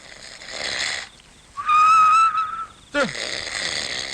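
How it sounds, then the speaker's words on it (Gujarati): A loud, high whistling snore sounds in a Gujarati comedy scene as a single sustained tone of about a second, between softer breathy noises. "તારા નસકોરા પીપુડીને જેમ ટીણા બોલે છે"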